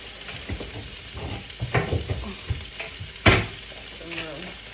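A tofu scramble cooks in a pan over a low flame, with a soft sizzle under repeated spatula scrapes and stirs and one sharper clatter near the end; no one speaks.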